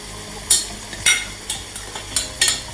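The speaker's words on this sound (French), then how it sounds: "On mélange bien." Thai noodles stirred in a pan with a utensil, a sizzling bed of frying broken by sharp scraping strokes at an irregular pace, close and clear with no talking.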